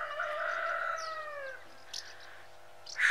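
A rooster in a Ukrainian village yard crows once, a clear descending call lasting over a second, followed by faint scattered clucks and small sounds from nearby hens.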